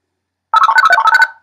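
A phone-dialing sound effect from a soundboard app plays as a quick run of electronic tone beeps, loud and close, lasting under a second.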